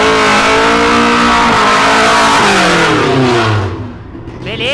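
A 460 hp Mercedes accelerates hard, its engine roaring loud and close with rising gear pulls and shifts before the sound drops away as it speeds off.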